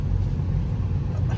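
A deep, continuous exhaust rumble from a car idling close by, low and steady throughout.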